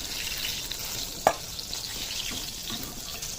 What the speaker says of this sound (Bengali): বাকি বেগুনগুলো আমি ভেজে নেবো